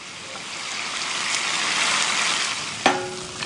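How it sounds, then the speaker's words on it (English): Gyoza fry in a hot pan as a cornflour-and-water mixture with a little sesame oil goes in, a steady hissing sizzle that swells and then spits sharply near the end, with no talk. "I just finish off the gyoza with a mixture of corn flour and water and add a little sesame oil"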